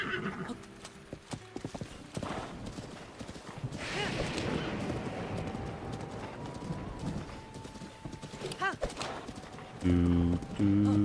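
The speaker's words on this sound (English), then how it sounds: "Come to me, my magical white horse." A white horse in a video game clip-clops along with a steady hoof rhythm and whinnies partway through, set among game sound effects and ambient noise, with a short chiming tone near the end.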